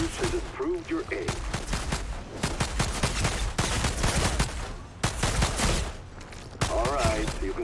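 Double pistols fire in quick repeated shots during Outriders gameplay, loud sharp cracks coming in dense rapid volleys, with a voice talking in brief moments between them.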